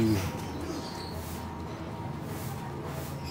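Pigeons in a loft and aviary give soft, low cooing that is most distinct at the start and then settles into a faint, steady murmur over background noise, with no talking.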